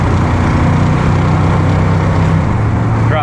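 A 1977 pickup truck engine drones loud and close, a low steady rumble with a slight shift in pitch as it kicks down to accelerate.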